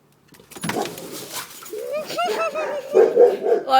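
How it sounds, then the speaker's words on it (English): A dog barks and whimpers in excitable bursts, yips and whines rising and falling close to the mic, with louder squealing toward the end and no clear talk over it. "So yeah, you've seen my dog. He's kind of crazy."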